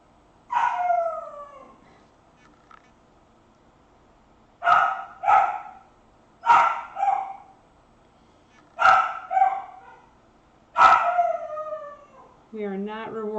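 A diva puppy barks and yips in short bursts, a single yelp first and then several quick pairs of high barks with gaps between, ending in a whining howl, close and clear.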